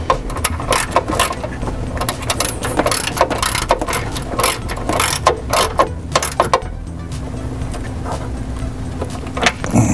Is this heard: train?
no